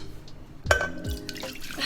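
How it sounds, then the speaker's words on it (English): Purified water splashes and gurgles into a pot for matcha in a short, close pour with a clinking contact at the start and brief liquid spatter. "I have right now 12 ounces of purified water, and what I'm gonna do is heat it up in a pot"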